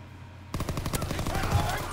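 Rapid machine-gun fire in the Call of Duty WWII video game during the D-Day bunker fight, bursting in suddenly after a quiet moment as a loud, steady stream of close shots.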